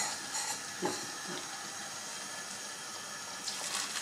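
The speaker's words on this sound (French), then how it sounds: "Et je mets de l'eau que j'ai chauffée, donc j'ai presque fait bouillir." Nearly boiled water pours onto couscous in a kitchen, a steady hissing splash with a few gurgling bursts, close and continuous.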